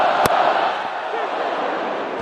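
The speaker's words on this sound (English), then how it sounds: "A boo from the crowd as it's hit down the ground." A stadium crowd at a Hundred cricket match between Oval Invincibles and Trent Rockets boos in a steady, broad roar. A single sharp knock comes early on, and the crowd noise stays loud and continuous throughout.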